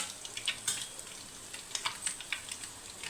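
Food sizzles and crackles in a pan while chicken noodles are cooked, a soft continuous frying hiss dotted with quick spitting pops, fairly quiet and close with no voices.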